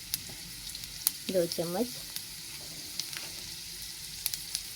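Cumin seeds hit hot oil in a pan for Hyderabadi tomato chutney, giving a brief crackling sizzle over faint background hiss while a voice speaks a few words.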